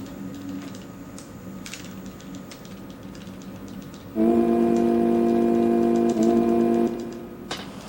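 A train in the Final Fantasy VI game rumbles with steady mechanical chugging, which swells into a louder sustained whistle-like tone for a few seconds before dropping back to the quieter clatter.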